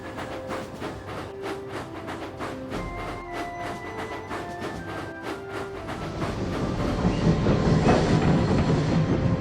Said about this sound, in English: The train was thundering up the hill, and Diesel was just about keeping up.